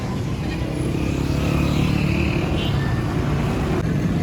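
Evening traffic at the Chowk Azam junction, with a car driving past: a steady, close engine and road rumble that holds at an even level throughout.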